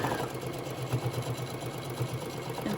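A sewing machine stitches across fabric pieces for a handmade bear, a steady close mechanical whirr with a fast, even pulse and no talking.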